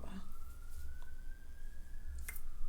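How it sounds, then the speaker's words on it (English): An ambulance siren passes outside as one steady wailing tone held throughout, distant and muffled behind a low room rumble. "As soon as I start recording, that ambulance truck just come out of nowhere."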